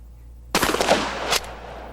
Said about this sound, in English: Here's what happens when you fire a rifled slug at 50 yards.